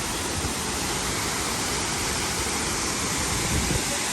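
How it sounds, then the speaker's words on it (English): A waterfall in Doi Inthanon National Park, Thailand, roars in a steady, dense wash of falling water, loud and continuous throughout with no voices. "you can enjoy this exquisite waterfall"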